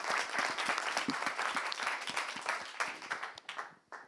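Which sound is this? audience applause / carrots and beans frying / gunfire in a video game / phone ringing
audience applause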